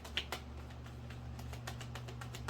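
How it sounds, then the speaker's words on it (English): Tarot cards are straightened and shuffled in a run of soft, quick clicks and flicks, close by and faint, over a low steady hum. "I'm trying to straighten my cards back out. Some of them don't shuffle."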